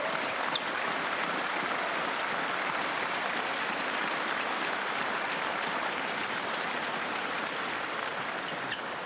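A crowd applauds at a table tennis men's singles final of the 2015 European championships, sustained dense clapping filling the arena at a steady level from start to finish.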